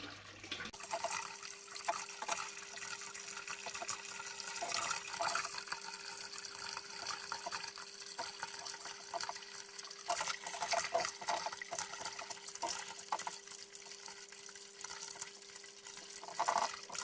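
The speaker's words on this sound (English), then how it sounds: "Now I just swap to this smaller siphon to get all the finer bits that the big one doesn't pick up." Small aquarium siphon drawing water from an axolotl tank, a quiet steady trickling and gurgling flow with a faint constant hum underneath, lasting throughout.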